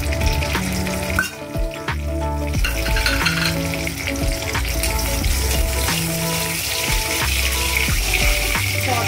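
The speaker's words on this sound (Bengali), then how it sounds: "দুটো তেজপাতা আর রাঁধুনি, পাঁচ ফোড়ন আর সর্ষে আমি ফোড়নে ব্যবহার করলাম।" Two bay leaves, radhuni, panch phoron and mustard seeds sizzling in hot bitter-gourd oil for a Bengali shukto, a loud continuous fry with crackles and spoon scraping.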